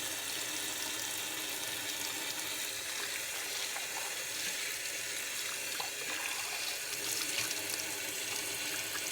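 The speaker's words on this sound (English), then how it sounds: "Make sure and rinse it really well so there's no residual soap." Running water splashes steadily while Yanmar 1500 tractor parts are rinsed, a continuous close hiss and patter of water with no pauses.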